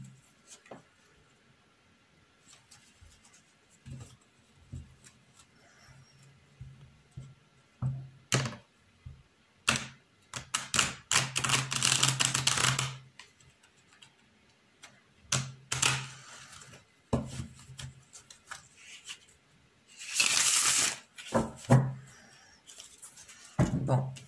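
Linchir Tarot cards are shuffled and drawn in a quiet room, with bursts of riffling and sliding cards broken by soft taps, thunks and pauses, and a voice speaking between them.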